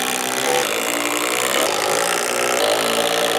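A power driver sinks long structural screws into wooden railing posts on a children's playhouse, giving a loud, continuous whirring drone that stays steady throughout, close up with no speech.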